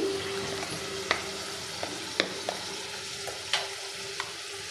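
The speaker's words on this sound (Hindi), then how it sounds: "अब मेरा तेल हो गया है गरम अब मैं इसमें डालूँगी अपने टमाटर" Tomatoes frying in hot oil for a vrat meal, with a soft steady sizzle and a few scattered clicks of a spoon against the pan, close and without talk.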